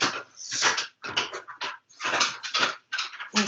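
A loud dog barking indoors in a close, rapid series of harsh barks that fill the whole stretch with only brief pauses between them.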